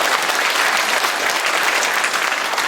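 Loud, dense applause from an audience at a Changwon civic report meeting, clapping for visiting high school second-year students, a steady unbroken roar of many hands close by.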